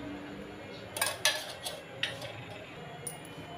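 Metal clanks and clinks ring out as a pan is set onto a lit gas stove, a few sharp close knocks followed by lighter taps against a quiet hiss.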